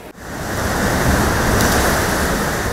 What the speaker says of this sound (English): we turn the dial up, obviously, and it pushes more water up, and boom, it comes down faster